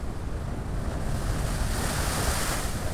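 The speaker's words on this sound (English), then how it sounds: "She stood on the shore and watched the waves crashing." Cold sea waves crash and wash against a rocky shore in a steady, loud, continuous roar, with wind buffeting the microphone throughout and no voices.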